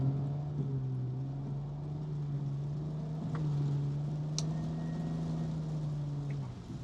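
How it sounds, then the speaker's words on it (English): A BMW E90 335i with a 6HP21 six-speed automatic flaring on gear shifts while cold: a steady engine drone inside the car, with a brief surge in revs partway through. No one talks. "when it's cold, the gears are flaring a little bit"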